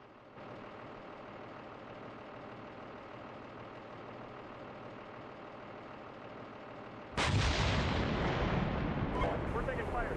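Heavy gunfire during a military exercise, including main gun fire: a steady low rumble gives way to a loud, sustained barrage of blasts that fills the final few seconds.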